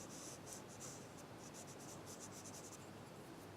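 Black pencil crayon rubbing and tapping across paper to make dots and textures, a steady close scratchy sound with brief bursts of quicker strokes, heard alone.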